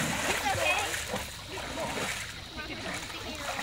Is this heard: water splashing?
yes